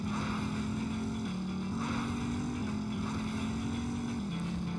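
A motorcycle engine in the video game No More Heroes drones steadily throughout, a constant loud hum with a slightly wavering pitch and no talk.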